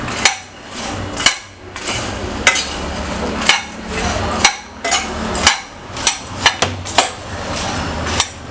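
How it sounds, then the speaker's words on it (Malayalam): A spicy puffed rice and lotus seed mixture is stirred in a metal pan, giving a loud, rhythmic series of spoon knocks and scrapes with dry rustling between them. "നന്നായിട്ടൊന്ന് മിക്സ് ചെയ്തെടുക്കാം."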